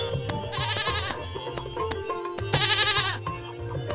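A cartoon sheep in the Meena Raju video game bleats twice in quavering bursts over plucky game music and effects, with no one speaking.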